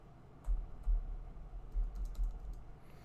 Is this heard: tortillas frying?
no